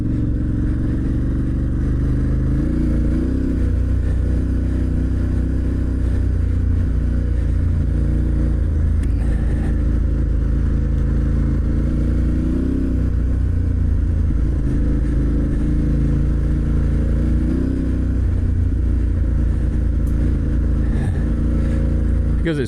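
Off-road motorcycle riding a green lane byway trail in South Dorset, the engine droning steadily up close with periodic rises in revs, continuous and loud throughout with no talking.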